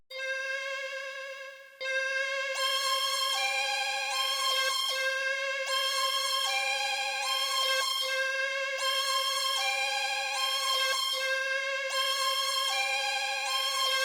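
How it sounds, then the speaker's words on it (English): Trippin', a synth lead preset in FL Studio, plays a bright, bell-like repeating melodic pattern in sustained phrases, clear and alone, used as a background texture. "Then I added this lead called Trippin'."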